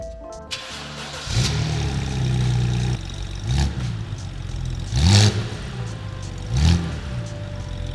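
A 2011 BMW Z4 engine cranks and catches nearby, settles into a steady idle, then gets several sharp revs that rise and fall in distinct bursts, loud and close.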